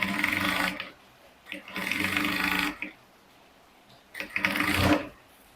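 A sewing machine stitches a seam on a transparent illusion corset in three distinct runs, each a steady buzzing whir of a few seconds separated by short pauses, heard up close.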